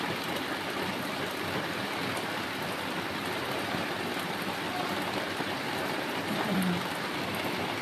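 Steady, heavy nighttime rain pours down as an even, unbroken wash of noise, with no voices over it.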